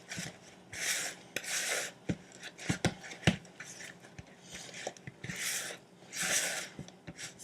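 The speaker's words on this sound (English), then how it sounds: "I'm going to stir that in with my rubber spatula." Rubber spatula stirring vanilla into creamy batter in a bowl, heard as repeated close, soft swishing strokes in bursts, with scattered light taps and knocks against the bowl between them.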